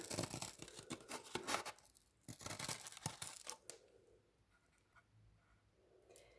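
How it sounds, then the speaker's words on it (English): Scissors cut around a cardboard toilet paper roll, giving a close run of crisp snips and tearing crinkles that thin out into quieter, sparse rustling. "We're gonna cut this cardboard nicely around."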